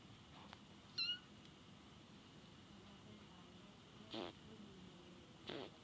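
A cat gives one short, faint meow early on in a quiet room, followed by a couple of brief soft noises and low background hiss, with no speech.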